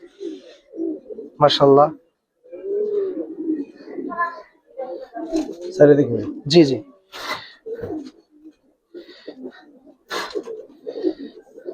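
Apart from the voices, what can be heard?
cooing of young Giribaz pigeons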